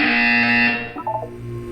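Test-chamber buzzer in the video game Portal 2, a loud sustained electronic tone holding for most of the moment before dropping into softer tonal blips.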